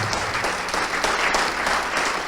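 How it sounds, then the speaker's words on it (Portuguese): A church congregation applauds during a service, a steady, fairly loud wash of many hands clapping that carries on unbroken throughout with no talking over it. "Vamos aplaudir mais ao Senhor Jesus."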